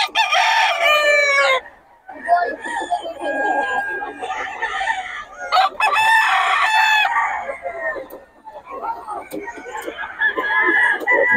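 Rooster crowing repeatedly at a poultry stall in an outdoor market, loud and near, with long strained crows separated by short pauses and a busy crowd murmuring underneath.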